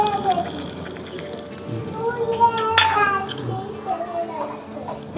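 Potatoes drop into a cooking pot and get stirred on a small village clay stove while varan bhat is made: metallic scrapes and clinks of a spoon against the pot, with someone talking over it.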